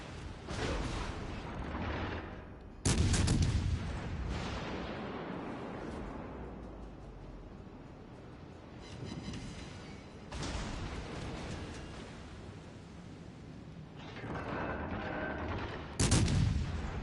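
Heavy naval gunfire in World of Warships: Legends, with Missouri battleship-class cannon salvos booming loudly around 3, 10 and 16 seconds, each blast trailing into long rumbling decay over continuous battle noise.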